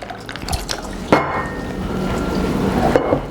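Triple sec pours into a cocktail glass along with reposado tequila and chocolate bitters, giving a close liquid trickle and splash with a few light knocks and clinks, with no talk.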